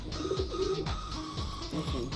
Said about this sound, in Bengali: খুব শখের কবুতর এগুলো